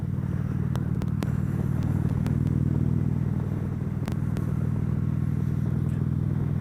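A motorcycle rides a clear road in above-freezing winter weather, its engine holding a steady, loud, low drone with wind rush and a few sharp ticks, no voices over it.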